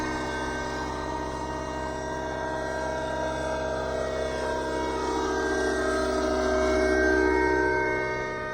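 A radio-controlled Raptor training helicopter flies on its first flight, its steady rotor and engine whine droning continuously and loudly, swelling slightly as it nears, with no voices.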